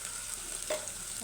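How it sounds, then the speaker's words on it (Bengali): Spices being stirred in a frying pan of beef for a yogurt kebab: continuous close sizzling with a single brief scrape of the spoon partway through. "এখন এটাকে সুন্দরভাবে একটু নাড়াচাড়া করে মশলাটাকে সুন্দরভাবে একটু কষিয়ে নেব।"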